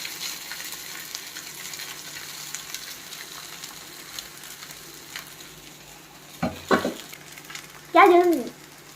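Rice tossed with biryani masala and chilli powder in a hot pan for egg fried rice, a low steady sizzle under brief loud stirring scrapes near the end, close by.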